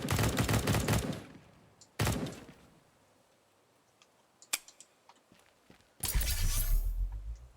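Modded video game gunfire comes in loud bursts of rapid automatic shots, one at the start, a short burst mid-clip and another at the end, with scattered clicks in the quieter gaps.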